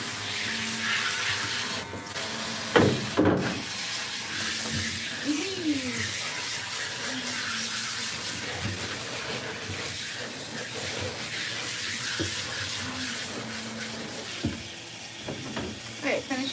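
Shower water spraying in a steady hiss while a Ragdoll cat is bathed during grooming, continuing throughout with faint voices and brief clatters in the background.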